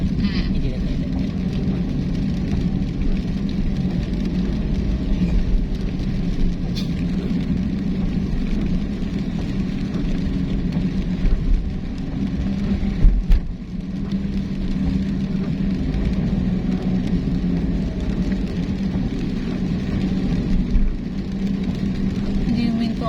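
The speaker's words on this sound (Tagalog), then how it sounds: "Hindi na uminto ang ulan." Rain drumming on a moving car on a road in the Philippines between Olongapo City and San Fernando, Pampanga, a steady hiss over low engine and road rumble, with someone speaking throughout.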